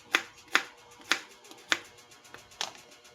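A knife chopping onion on a cutting board, six crisp, close thuds at a slow, fairly even pace about half a second apart, with no talk over them.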